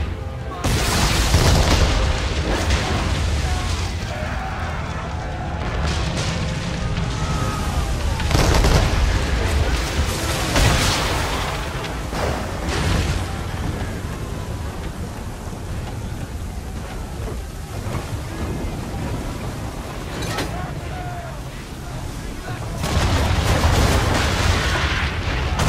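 Ship cannons fire as booming blasts within a raging sea storm in Assassin's Creed 3, with heavy rain and crashing waves roaring throughout and voices speaking over the din.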